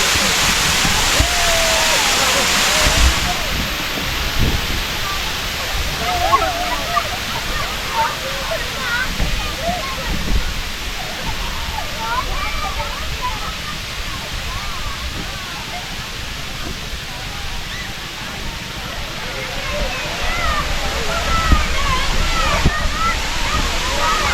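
Water of the Srinivasa Sagar reservoir rushes over the overflow weir in a loud, continuous broadband roar, with people talking over it throughout.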